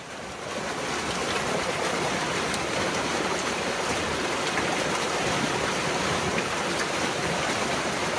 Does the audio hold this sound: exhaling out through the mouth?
no